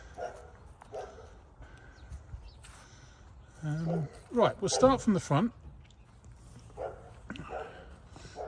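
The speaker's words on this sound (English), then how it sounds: "Sorry about the barking dog." A dog barks several times in a quick cluster midway, loud and fairly close, while someone talks before and after beside a 1968 Ford Cortina 1600GT Mk2.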